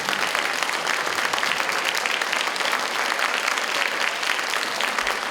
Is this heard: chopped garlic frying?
no